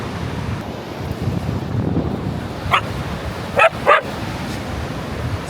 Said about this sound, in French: Ils sont malheureux les chiens ici.